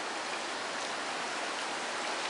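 Rain from a summer storm in Des Moines in July 2012 pours down as a steady, dense hiss that fills the whole stretch without a break, loud and even.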